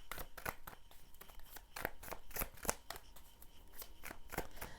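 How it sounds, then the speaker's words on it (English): Tarot cards are shuffled close by in a quick series of crisp riffles and flicks, with soft rustling between the snaps. "this is why I shuffle on camera"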